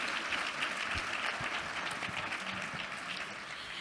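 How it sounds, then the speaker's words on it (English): Audience at a panel session on payments in emerging markets claps in sustained, dense applause that continues evenly throughout, fairly close and loud with no voices over it. "won't you please give my panelists a massive, massive round of applause"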